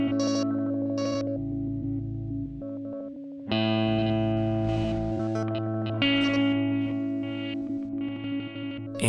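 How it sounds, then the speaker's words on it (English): Harsh, gritty synthesizer tones from the injectr plugin by Boredbrain Music, with crunchy digital noise and bit crushing swelling and receding with the envelope over sustained chords, loud and continuous with no voices. "This is going to add some digital noise and bit crushing to the signal each time the envelope rises"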